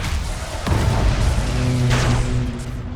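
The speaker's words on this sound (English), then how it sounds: "Managing to pull that Nova Cannon shot off right in the spot." A Nova Cannon fires in the space strategy game Battlefleet Gothic Armada 2, producing a loud, sustained rumbling boom with a deep droning tail and a second swell partway through, with no talking.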